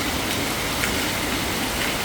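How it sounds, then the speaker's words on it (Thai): Heavy rain pours down in Kanchanaburi, Thailand, a dense, even hiss of falling water and drops on surfaces, continuous and close with no voices. "ที่เมืองกาญจนบุรีฝนตกหนักเลย"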